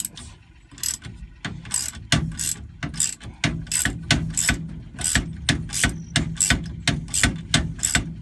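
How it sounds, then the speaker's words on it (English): A ratchet wrench clicks steadily while a bolt is removed on a Ford F100, a fast repeating series of sharp ratcheting clicks in short bursts, close and loud with no talking. "Tyler's just pulling off the bolt,"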